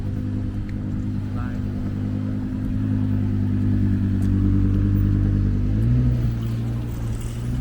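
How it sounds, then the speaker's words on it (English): A car drives past on a city street in Stockholm's Vasastan–Hagastaden area: a deep, steady engine rumble close by, swelling toward the middle and then shifting pitch, with a voice speaking briefly over it. "Oh, fancy car."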